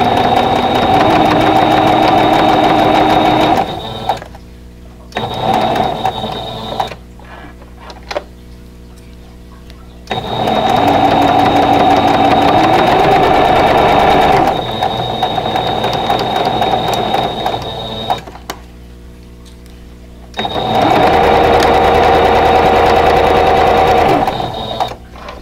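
A sewing machine stitches a quilt block in long steady bursts of rapid mechanical whirring and ticking, separated by short pauses, close and clear with no talking.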